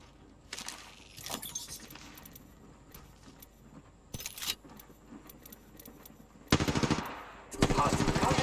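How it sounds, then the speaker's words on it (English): Bursts of automatic gunfire in the video game Apex Legends while playing Bangalore, with short rattling volleys separated by quieter gaps and two loud sustained bursts near the end. "I am taking fire, friends."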